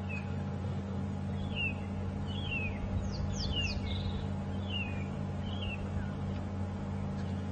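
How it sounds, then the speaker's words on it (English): A bird at Djuma Game Reserve gives a series of liquid, slurred whistling calls, several short notes spaced irregularly over a steady low mechanical hum. "And hopefully you can hear that liquid call."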